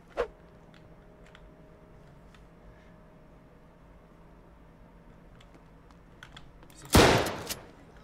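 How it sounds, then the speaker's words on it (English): Gunfire in the tactical shooter game Ready or Not: a single sharp shot near the start, then a loud, dense burst of shots around the seventh second over a quiet background hum. "I'm shooting you. I don't care who you are. You're gonna get blasted."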